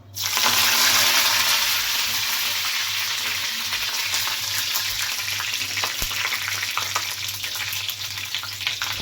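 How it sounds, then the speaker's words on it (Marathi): Curry leaves hit hot oil for a kaleji fry, setting off an instant loud, crackling sizzle that stays steady and close throughout, with small pops spitting over the hiss. "तर तेल गरम झालेलं आहे त्याच्यामध्ये आपण सुरुवातीला कढीपत्ता टाकूया"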